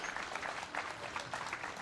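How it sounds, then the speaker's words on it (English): Audience applause for the speakers and athletes at a regional firefighter competition, a steady, dense patter of many hands clapping throughout, moderately loud and without pauses. "Please give a big round of applause for everyone speaking today and all of our athletes."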